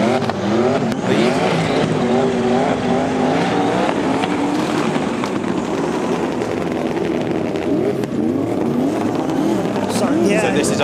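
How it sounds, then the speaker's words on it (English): Drift cars racing at the FIA Motorsport Games Drifting Cup, including a turbocharged 900 hp BMW E92 M3, engines roaring loud and continuous with tire squeal throughout, a voice talking over it. "I wanted to listen if both cars were off throttle, and they were"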